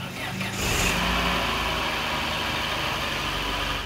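An old Citroën XM, unused for a year, cranks briefly and then catches, settling into a steady, even idle heard close up with no voices.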